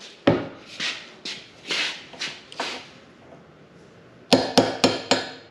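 A hammer chips residue off a brass fitting on an old Ford water truck, with scattered sharp taps followed by a quick burst of four close, loud strikes at the end.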